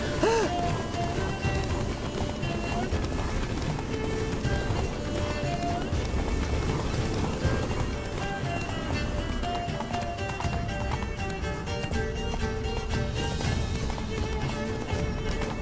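Roach, Geralt's horse from The Witcher 3, gallops in a steady, continuous clip-clop of hooves, heard within a dense in-game mix of music and ambience without speech.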